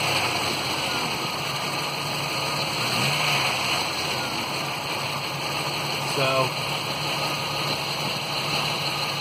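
A 1991 Jeep Wrangler YJ engine with 235,000 miles idling steadily with a constant hum and rumble, and a brief spoken word partway through.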